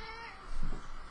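A house cat meows once or twice near the microphone, a short soft call rising midway through a quiet indoor moment with no talking.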